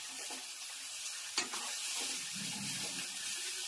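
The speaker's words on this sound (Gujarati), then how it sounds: "તલવાળા મસ્ત મજાનો વઘાર." Sesame seeds crackling in a hot oil tempering for patra, a soft steady sizzle with one brief sharp clink partway through, heard close and fairly quiet with no speech.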